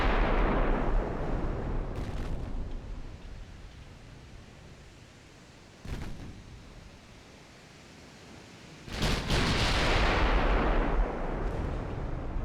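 Naval gunfire strikes ships in the warship game Ultimate Admiral Dreadnoughts, with deep booming impacts and rumbling roars. Three heavy blasts stand out at about the start, midway and near the end, each trailing into a long, noisy rumble.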